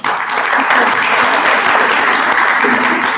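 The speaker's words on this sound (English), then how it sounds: "the panel members will clap like they mean it to say thank you to the panel" Audience applause thanking a conference panel on addressing inequalities, a steady, dense wash of clapping from a large crowd, loud and continuous throughout.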